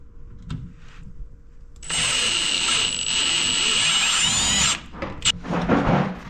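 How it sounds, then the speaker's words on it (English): Power drill tapping bolt holes in a skid plate for a 2024 Turbo R off-road machine: a steady, loud high-pitched whine running about three seconds, then short bursts and clanks at the end. "We're gonna tap the holes out first and then we'll bolt them on."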